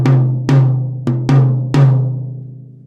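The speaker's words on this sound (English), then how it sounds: "middle tom" The middle tom of an unmuffled drum kit, tuned high, is hit five times in slightly uneven succession. Each stroke is close, loud and resonant, with a pitched ring that carries into the next hit. No voices.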